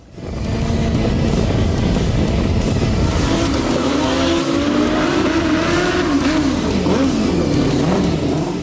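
Turbocharged drag racing motorcycles at the Santa Pod drag strip, a loud continuous engine roar with rising revving tones close by, sustained throughout with no talk.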